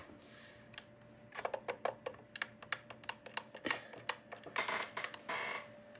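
Quiet clicking of a computer keyboard being typed on at a home desk, a loose run of soft key taps that speeds into denser clusters, close by with faint background hum.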